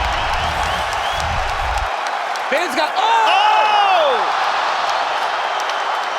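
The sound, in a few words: fight crowd cheering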